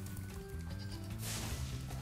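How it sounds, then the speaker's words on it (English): Sheep in the video game Spyro the Dragon giving a single drawn-out bleat, loud and close over steady background music, no talking. "There's a sheep down there"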